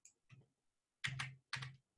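Three short bursts of computer keyboard typing, a faint light tap followed by two louder clustered clacks of keys, close up with no talking.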